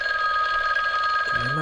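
A telephone rings in the horror game Babysitter Bloodbath, a steady electronic trill that holds loud and continuous through the moment, with a low noise rising near the end.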